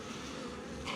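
Bees buzz inside a divisible hive, a dense continuous close-up humming drone with no talk.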